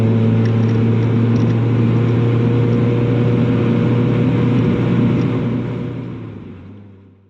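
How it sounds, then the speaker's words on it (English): A Mazda MX-5 Miata NB2 engine held at open throttle, a loud, steady, buzzy drone heard up close that fades away over the last couple of seconds. "Open throttle, baby."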